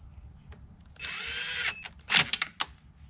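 A power drill whirs for about a second while snugging a screw on a push mower, then a few short bursts and clicks follow as more screws are driven, close and clear with no talk.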